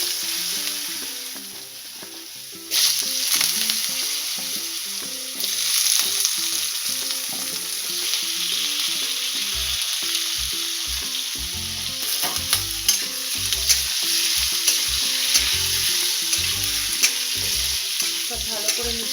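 White potatoes frying in a pan with paanch phoron and asafoetida, a steady sizzle broken by repeated scraping and knocking of a spoon as they are stirred, growing busier in the second half.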